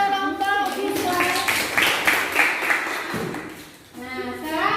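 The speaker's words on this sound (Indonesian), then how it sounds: "tepuk tangan untuk kelompok visual" Students in a classroom clap together for a presenting group, a busy burst of hand claps mixed with a teacher's voice and children talking over it.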